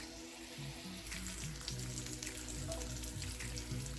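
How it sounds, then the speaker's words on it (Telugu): Fish pieces frying uncovered in oil over a low flame, a steady close crackling sizzle with dense popping bubbles that holds level throughout, no voices. "ఈ చేప మొక్కల్ని మూత పెట్టకుండా ఇలాగే లో ఫ్లేమ్లో ఒక రెండు నిమిషాల పాటు ఫ్రై అవనివ్వాలి"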